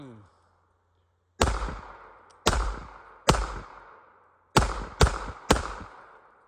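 A .40 caliber pistol fires six sharp, loud shots at uneven intervals, each crack trailing off in a ringing outdoor echo, with the last few coming in quick succession.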